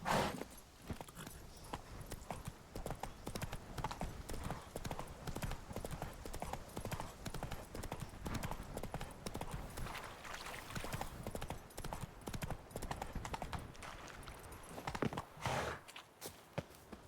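Roach, the horse in The Witcher 3, gallops with fast, continuous rhythmic hoofbeats that stay close and steady throughout, with a brief whinny-like sound and faint game ambience beneath.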